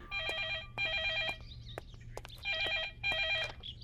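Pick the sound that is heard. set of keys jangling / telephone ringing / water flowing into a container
telephone ringing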